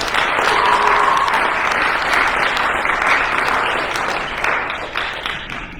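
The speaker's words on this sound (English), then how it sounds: "One more round of applause for our captains" Loud, sustained applause and clapping from a banquet crowd honoring team captains at a 2021 RFPL team banquet, steady and dense throughout before easing slightly at the end.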